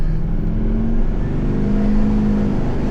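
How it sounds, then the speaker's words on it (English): A rebuilt truck engine with an upgraded turbo runs loud and close, its steady engine drone overlaid by a rising turbo whine for a few seconds. "that turbo noise sounds so good"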